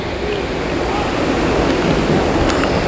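The waterfall at Tad Suea on the Bolaven Plateau in southern Laos gives a loud, steady rushing roar. The broad rumble of falling water stays close and unbroken throughout.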